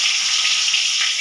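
Whole cumin, bay leaf and chopped tomato hit hot oil in a pan for a vegetarian banana-flower dish, giving a loud, steady, close hiss of sizzling with no break.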